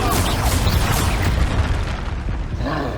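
Explosion spells Expulso and Confringo blasting in the Hogwarts Legacy video game, a dense run of loud booming bursts that thins out toward the end.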